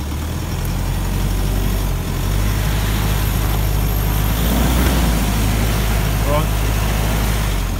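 A 4x4's engine labours and revs steadily while trying to climb a slippery slope, a loud continuous low drone with people talking over it.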